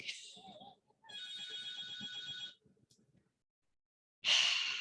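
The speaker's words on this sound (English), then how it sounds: "the bell is ringing all day and I'm in the middle of other things" A doorbell rings in a home: one sustained buzzing ring lasting over a second, then after a pause a sharp, louder chime starts, with faint breathy sounds nearby.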